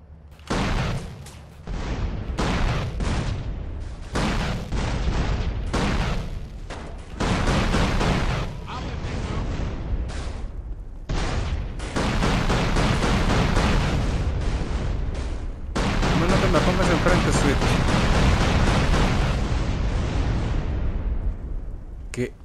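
Rapid, dense gunfire and explosions rage almost continuously in a GTA San Andreas gang fight, loud bursts tightly packed with short gaps, while a player talks over the action.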